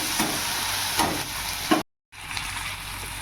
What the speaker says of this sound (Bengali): গোল্ডেন ফ্রাই হওয়ার আগে পর্যন্ত পুরো এটুকু ফ্রাই করে নিচ্ছি ভালো করে।